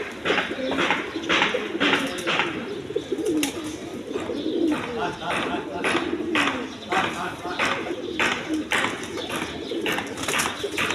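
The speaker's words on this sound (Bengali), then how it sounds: "দেখেন এইখানে আরও অনেক কবুতর আছে" High-flying Giribaz pigeons coo continuously at a pigeon farm, rhythmic soft throaty calls from several birds nearby, with someone talking over them throughout.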